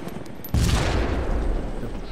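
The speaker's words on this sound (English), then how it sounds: "This is Hawk 1, I'm taking AA fire." Sustained burst of anti-aircraft gunfire in Arma 2, a sudden loud onset of dense rapid fire that continues steadily to the end, with no talk.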